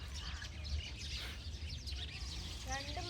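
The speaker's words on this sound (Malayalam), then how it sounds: "അതാ നോക്ക് 2 മൈന" Two myna birds chirp and call in short bright bursts over a low background rumble, with a quick run of sharp notes near the end.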